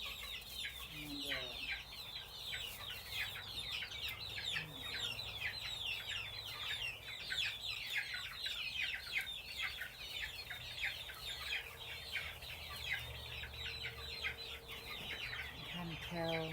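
A flock of chickens clucks and murmurs steadily while settling to roost, soft and continuous, with a low background hum and no clear talking.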